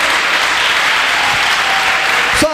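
A church congregation claps loudly and continuously in praise during a service, a thick, even roar of hands with a brief vocal sound rising at the very end.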